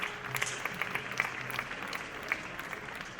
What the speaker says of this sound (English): Please, shall we keep the applause going